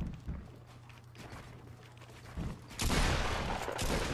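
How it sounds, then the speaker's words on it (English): Gunfire rattles through a Fortnite Battle Royale fight, a burst of shots near the start, then a louder, denser stretch of rapid fire in the last second and a half over a steady low hum. "Both of them are shooting at them."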